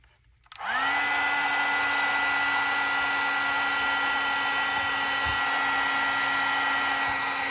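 A hair dryer switches on and runs at a steady, loud whir with a constant whine, drying wet paint on a mixed media craft tag, held close and uninterrupted.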